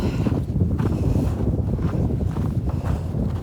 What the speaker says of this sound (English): the wind at Pete's Road is terrible